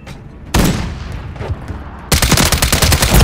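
Modern Warfare III weapons firing: one loud burst starts early and fades, then dense automatic gunfire rattles continuously and close through the final second.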